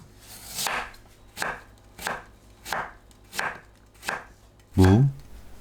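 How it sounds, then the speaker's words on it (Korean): Knife julienning radish on a cutting board, a run of six sharp, evenly spaced chopping strokes close up, ending in a heavier, louder knock. "무를 채 썰어주세요"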